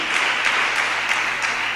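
Congregation applauding during a church worship service, a dense, steady burst of clapping from many hands that fills the whole short moment at close range with no voices over it.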